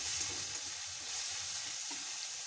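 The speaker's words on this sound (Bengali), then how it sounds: "ঠিক আছে, উচ্ছেটা ভাজি ততক্ষণ" Bitter gourd (uchche) frying in a pan gives a steady, soft sizzle with faint bubbling and occasional stirring, close and continuous, with no talk.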